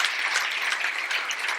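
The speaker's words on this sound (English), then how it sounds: "I think that deserves a round of applause." An audience at a live talk claps in steady, dense applause, many hands blending into an even wash of sound that holds for the whole moment without voices.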